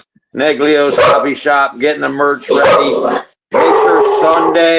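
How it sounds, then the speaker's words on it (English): A dog barks in a small back room of a hobby shop during a live show, short barks mixed under and between loud, close conversation. "sorry about the dog."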